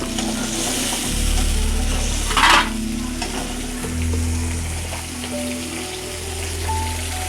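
Shrimp fry in hot oil, a dense continuous sizzle and crackle running throughout, with a low hum underneath and a brief scraping stir partway through.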